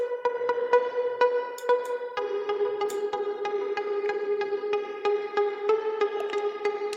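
Sustained synth pad from Serum in FL Studio, its filter cutoff swept by an LFO, holding a steady harmonic tone with rhythmic pulses of brightness; alone and fairly quiet, no talk.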